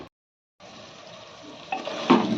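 Tomatoes and fresh coriander leaves fry in a pan for chicken biryani, a steady close sizzle that starts after a short silence and grows louder, with stirring scrapes near the end.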